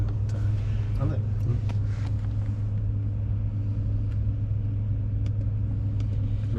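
An Audi Q7 V12 engine holds about 3,000 RPM under turbo boost, heard from the cabin as a steady, low, droning rumble that stays even in level from start to finish.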